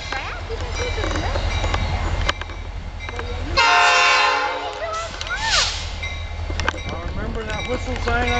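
A Norfolk Southern mixed freight train approaches a crossing on its way into Bellevue yard, with a steady rumble throughout and one loud, sustained horn blast midway. People talk nearby over the train.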